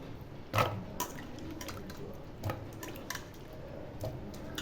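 Cut pieces of taro root (karunai kizhangu) are washed by hand in a vessel of water, making soft sloshing and dripping with a few louder splashes spaced a couple of seconds apart.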